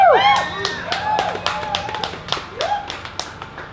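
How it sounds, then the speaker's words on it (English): Scattered hand claps and whoops from a live audience at a spoken-word poetry show, loose and uneven rather than full applause, with a whistle-like cheer sweeping through near the start. "Yeah, the crowd goes wild."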